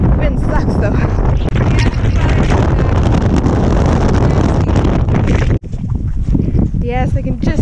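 Strong wind buffets a microphone on an exposed mountain, a loud, roaring, continuous blast that briefly drops out before gusting back, with a voice speaking at the end.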